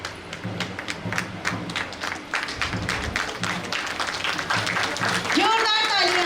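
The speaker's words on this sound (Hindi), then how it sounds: "तो तालियां, एक बार फिर जोर से तालियां।" Clapping from the crowd at a Women's Day gathering held by a women's social organisation, a steady patter of hands running throughout with some thumps and voices mixed in beneath.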